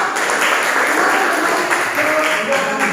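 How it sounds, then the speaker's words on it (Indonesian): A classroom group of students claps together in sustained, fairly loud applause that lasts the whole moment, with no voices standing out. "Tepuk tangan untuk kelompok 2"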